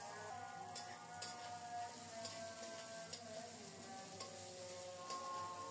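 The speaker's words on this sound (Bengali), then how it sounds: "নেড়ে চেড়ে পেঁয়াজ রসুন কিছুটা ভেজে নেব।" Chopped onion and garlic frying in mustard oil with salt, a steady soft sizzle with occasional stirring scrapes, close and continuous with no talking.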